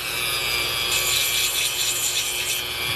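A Dremel rotary tool with a small grinding stone bit grinds steadily and harshly at close range, a continuous high, gritty whir with no pauses.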